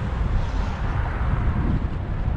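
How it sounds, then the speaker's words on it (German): Stiff wind while cycling along the Weser river near Holzminden, a loud, steady blustery rumble buffeting the microphone throughout, with no talking. "Hier weht aber ein steifes Lüftchen,"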